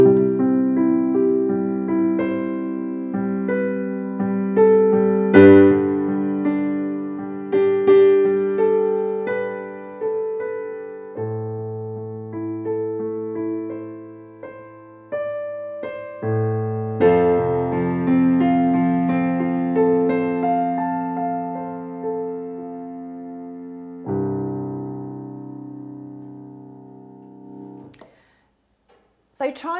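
A simple beginner piano piece with shifting dynamics, notes and chords swelling louder and falling softer in several phrases, played alone and close, ending with a brief pause.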